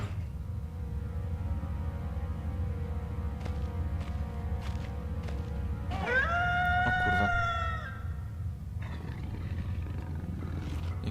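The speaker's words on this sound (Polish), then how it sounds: "jakieś wycie słyszałem" A monster's drawn-out howl rises near the middle of a tense moment in the horror video game Penumbra, standing out clearly over a low ambient rumble with a few sharp clicks and knocks before and after.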